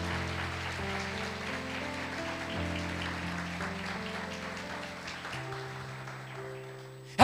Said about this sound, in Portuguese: Se é para ele, aplauda mesmo